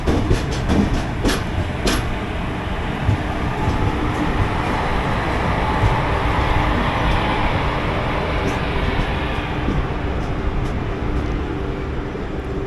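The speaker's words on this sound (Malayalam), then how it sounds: "അതാണ് കാരേക്കാൽ എക്സ്പ്രസ്." The Karaikal Express train in India rumbles past, a loud, steady rolling roar with faint clicks of the wheels on the rails.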